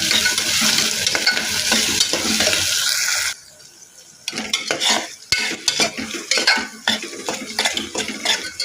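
Onion and green chilli pieces hiss loudly in hot oil for a few seconds, then the sizzle drops and close clattering stirs of a metal spoon against the pan follow, all without talk.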